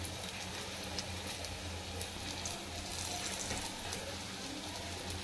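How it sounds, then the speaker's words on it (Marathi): Slices of yam (suran) dipped in a rice and rava batter fry in a pan, giving a faint, steady hiss and crackle without pause and with no voices. "त्यात हे बुडवून तळतोय"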